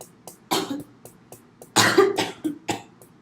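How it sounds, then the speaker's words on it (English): A person coughs in a series of sharp, close bursts with short pauses between them, some harsh and throaty, set against a quiet indoor room. "Sometimes my saliva, I swallow it, and it can cause me to cough"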